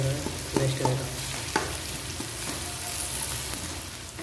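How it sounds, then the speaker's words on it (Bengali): Onions fry in oil in a pan with a steady soft sizzle, broken by a few sharp clicks and scrapes from stirring. There is no talking. "তেল দিয়ে পেঁয়াজটিকে ভাজা ভাজা করতে হবে"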